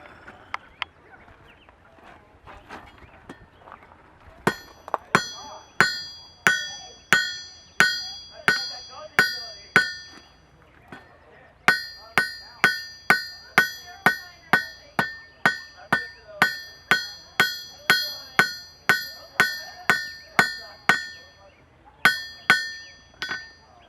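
A blacksmith hammers hot metal to forge a leaf blank, striking in steady, ringing blows with bright metallic overtones, grouped in rhythmic runs separated by brief pauses.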